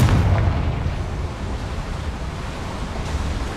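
A Confringo fire-blast spell from the Hogwarts Legacy video game bursts loudly at the start, then trails into a sustained roaring, crackling rumble with no talk over it.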